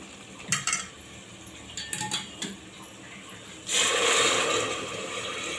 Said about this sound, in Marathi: आता आपण यामध्ये गरम पाणी घालून घेऊ।